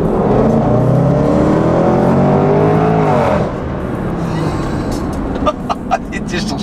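A powerful supercharged V8 engine in an SUV revs loudly with a rising, rumbling growl, then drops to a lower throb with a few clicks.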